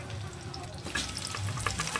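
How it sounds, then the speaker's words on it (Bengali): Onions frying in oil in a pan give a brief close sizzle that swells louder about halfway through as they hit the oil. "এবারে আমি এতে পেঁয়াজ দিয়ে দেবো তেলটাতে। পেঁয়াজটা দিয়ে দিলাম, পেঁয়াজটা সুন্দর করে ভাজা হয়।"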